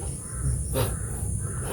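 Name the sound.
crows cawing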